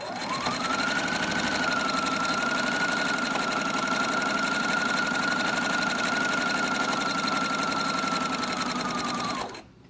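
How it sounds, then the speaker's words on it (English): Sewing machine stitching fabric for a Cricut Maker dust cover, a continuous close whirring run of forward and back stitches with a steady motor tone that cuts off abruptly at the end. "forward a few stitches, and then I'm gonna back stitch a few stitches."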